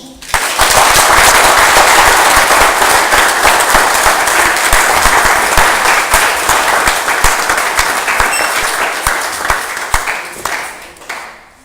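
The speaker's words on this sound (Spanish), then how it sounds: "Un aplauso para Jesús." A congregation at a priest's reflection breaks into loud, dense applause that swells quickly, holds for several seconds with sharp individual claps cutting through, then thins and fades away.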